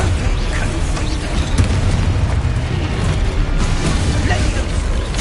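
A Confringo spell explodes in Hogwarts Legacy, a loud, dense, continuous blast of booming rumble and crackling debris that holds steady from start to finish.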